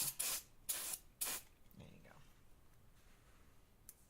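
Three short, sharp hissing bursts of brake cleaner spray hit the brakes on a Harley V-Rod Muscle, close and distinct, followed by faint handling noises and a brief spoken word.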